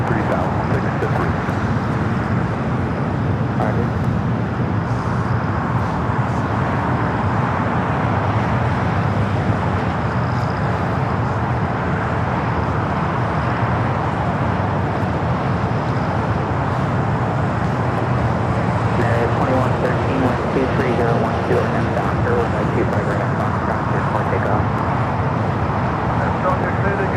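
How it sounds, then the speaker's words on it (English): A Boeing 787-10 Dreamliner arriving at LAX from Amsterdam gives a steady, loud, broadband roar of engine and wind noise that holds without a break, mixed with distant traffic. "the first of two flights coming in from Amsterdam, the 787-10 Dreamliner"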